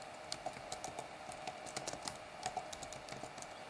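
Python code being typed on a computer keyboard, a quiet run of irregular key taps with occasional firmer strokes, close and soft, with no talking.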